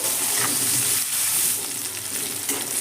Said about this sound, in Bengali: উচ্ছেটাকে এবার আমি ভেজে নিচ্ছি